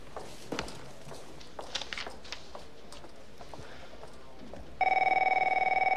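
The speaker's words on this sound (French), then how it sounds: "Le téléphone sonne et..." A telephone in a scene from the film Seven starts ringing with a bright, steady electronic trill after a few seconds of faint footsteps and light rustling.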